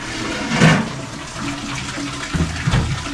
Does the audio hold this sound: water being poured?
yes